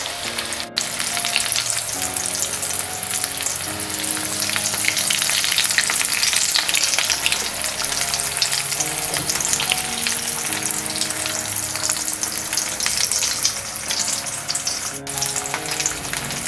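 An egg kebab made with potato and egg fries in oil in a pan over a low flame. A steady, dense sizzle continues throughout, with one or two brief clinks from the pan.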